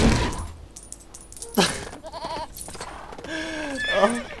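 A goat in the LEGO Lord of the Rings video game lets out a few wavering, quavering bleats amid game effects and bursts of talk.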